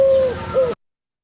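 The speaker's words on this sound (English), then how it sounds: "you can see the Eurasian collar dove" Recorded Eurasian collared dove cooing, played back indoors: two sustained tonal coo notes, the first longer, with a short gap between them, clear and fairly close before an abrupt cutoff.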